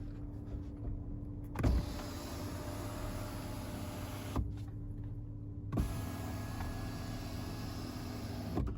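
A motorized rear window shade in a Cadillac CT6 cabin whirs in a steady electric drone, broken by a few soft clicks and thumps as it moves, alone without talk.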